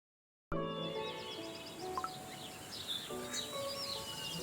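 Small birds chirp and tweet in quick, scattered bursts over a soft, steady background hiss, fairly close and moderately loud.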